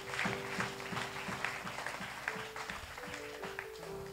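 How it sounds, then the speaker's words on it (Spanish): A church congregation claps along at a steady rhythm during a Spanish-language service, the hand claps fairly faint and regular over a sustained organ-like tone and light background murmur. "Dele palmas al que vive,"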